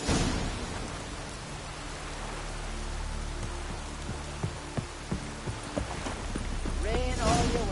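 Rain in The Witcher 3: Wild Hunt, a steady hiss of falling rain with clopping horse hooves and a distant rumble, while voices speak over it.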